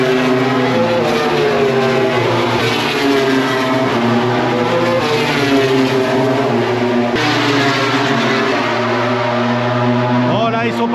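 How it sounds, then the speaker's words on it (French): MotoGP motorcycles circling a race track in Indonesia, their engines a constant loud, high whine rising and falling in pitch as bikes pass, with talk running over the engine noise. "le bruit de ces motos GP est assez exceptionnel"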